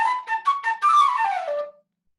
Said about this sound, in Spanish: si nuestro cabal suena así